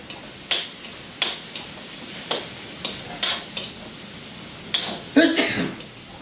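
Basil and mushrooms stir-fried in a pan, with a spatula clacking against the metal in repeated sharp strikes roughly every half second over a soft sizzle, close and fairly loud.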